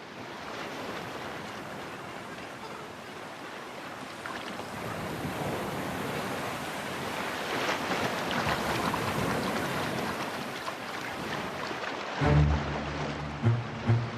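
Violent ocean waves crash and roll onto the shore in a continuous roaring wash with heavy wind buffeting the microphone, swelling louder midway, followed by a few low thumps near the end.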